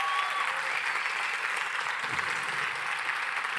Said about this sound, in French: eau, responsable du développement à Ubisoft, on l'applaudit très fort.